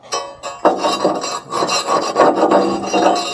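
Rough scraping of ash inside a Portage & Main outdoor wood boiler firebox, a series of close, loud metallic rasping strokes in irregular bursts with no talk.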